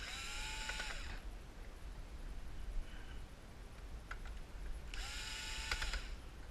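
Screws being backed out of a Konica Minolta Bizhub 601/751 copier cover with a power driver, two short whirring bursts several seconds apart, close and fairly clear over a quiet background.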